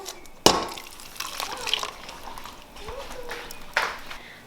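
Blended barbacoa sauce is poured into a medium-sized pot, giving soft liquid splashes and a sharp clink of the container against the pot, with quiet voices in the background.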